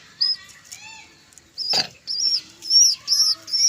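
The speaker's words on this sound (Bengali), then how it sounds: "এটা এটা হচ্ছে ভালো জাতের কবুতর" Pigeons of a good breed calling in short bursts of chirping and cooing, with a brief flutter of wings in the middle, close and clear with no talking.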